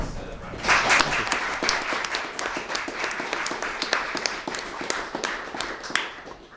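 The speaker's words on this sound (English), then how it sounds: "let's give Dr. Wicks a round of applause" An audience at an academic symposium breaks into applause for a speaker, with crisp clapping swelling quickly after a brief lull, holding steady for several seconds and then thinning out toward the end.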